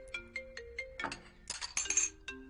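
Mobile phone ringtone sounding a call from a son, repeated short electronic chimes in a quiet room, fairly soft, with a brief clinking flourish midway and no talk.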